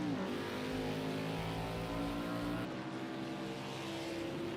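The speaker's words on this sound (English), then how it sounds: "Trying to get on the throttle there, Burrow Dog." A NASCAR Xfinity race car at Sonoma in a racing video game, its engine droning steadily and rising in pitch as it accelerates under throttle, loud and continuous.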